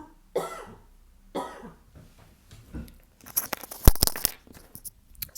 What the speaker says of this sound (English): I don't know what this cough's come from.